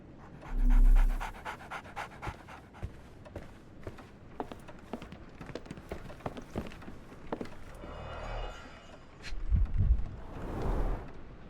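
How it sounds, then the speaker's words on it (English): A dog in the video game Sherlock Holmes The Awakened pants in quick, rhythmic breaths close by, with soft footsteps and small thuds mixed in and a louder bump near the start. "So, Barnes has a dog now."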